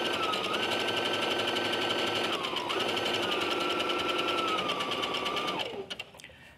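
A sewing machine stitches a wobble stitch in a steady, fast, continuous whir with a faint high tone, running for several seconds and cutting off near the end.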